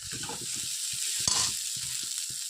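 Green chillies and turmeric powder fry in a hot pan, giving a steady sizzle with faint scraping stirs and one sharp clatter of the spoon midway, close and alone.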